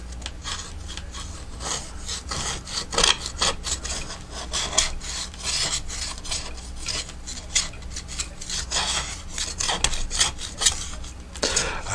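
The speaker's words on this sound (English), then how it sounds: "I'm going to take my knife. We're going to scrape away what I don't need here." A knife blade scraping away material in repeated rasping strokes, close and fairly loud, with an uneven rhythm of short scratchy passes and no talking.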